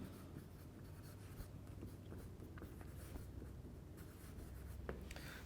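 Marker or chalk scratches faintly across a board during a chemistry lecture, a soft continuous scraping with occasional taps under a steady room hiss.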